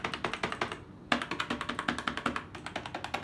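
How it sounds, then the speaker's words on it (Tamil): Keys on a Zebronics budget gaming keyboard, a non-mechanical spring type, are pressed in a quick, steady run of close, crisp clicks, with a short pause near the start and no talk. "எல்லா கீபோர்ட்லையும் ஸ்பேஸ் பட்டன் ஒரு கோலராக தான் சவுண்ட் வரும்."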